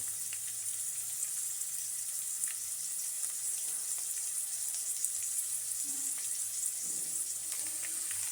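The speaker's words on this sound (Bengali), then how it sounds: "এই যে ছোলা ভাজা হয়ে গেছে" Chickpeas frying in a pan for a morning snack, giving a steady, even sizzle with no break, heard close and alone, with a few faint low clinks.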